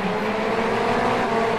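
Race cars in a touring car racing video game roar past in a tight pack, a loud, dense engine blare lasting about a second and a half.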